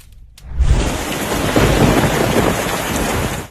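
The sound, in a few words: thunderstorm with thunder and rain over Tashkent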